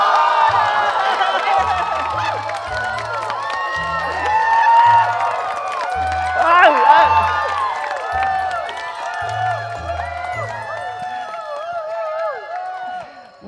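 An audience at a Vietnamese Tet comedy stage show claps and cheers, a steady wash of applause with whoops that swells midway and fades near the end, under lively music with a bass beat.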